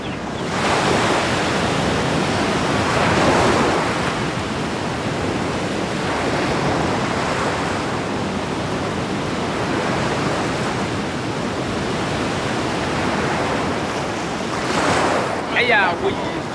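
Ocean waves break and wash continuously along a beach in Ghana, a loud, steady roar of surf with swelling rushes and wind buffeting the microphone throughout.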